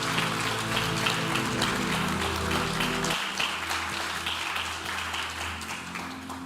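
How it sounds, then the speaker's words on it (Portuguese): A church congregation claps together for the Lord during a worship service, a steady wash of applause over a held musical drone that drops away partway through. "Você pode dar uma salva de palmas ao Senhor?"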